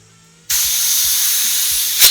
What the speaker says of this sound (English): now spray can's not spraying